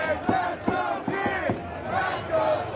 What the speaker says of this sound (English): the crowd obviously behind the Emerald Emperor